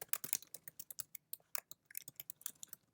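Rapid typing on a computer keyboard: quick, irregular bursts of light key clicks in close succession, near and fairly quiet, with no voices.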